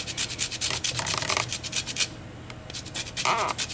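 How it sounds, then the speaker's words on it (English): Lemon rind rubbed against a small hand grater, a rapid series of close, scratchy rasping strokes with a brief pause partway through, no voices. "grating about a half a teaspoon of the lemon rind into this."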